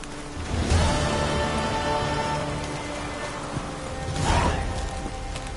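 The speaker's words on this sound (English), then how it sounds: "Looks like rain." Steady rain pattering on surfaces in the video game The Witcher 3, a continuous dense hiss with a couple of swelling gusts, heard alone without voices.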